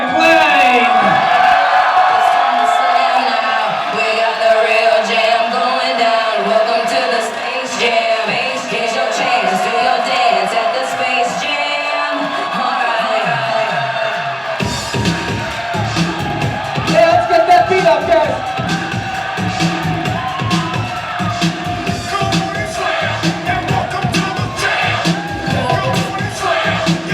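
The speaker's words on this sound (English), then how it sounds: "How about let's make a round of applause for the new Mr. and Mrs. Nathaniel and Tayler Klein." Wedding guests cheer, whoop and clap for newlyweds Nathaniel and Tayler Klein, a loud steady crowd roar throughout with shouts rising above it, music and chatter underneath.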